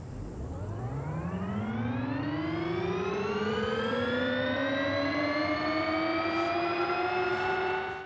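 The engine of a Hyundai NVision 74 concept car in Forza Horizon 5 whines up steadily in one long, loud rising tone, its layered pitch climbing and leveling off near the top, with no talking.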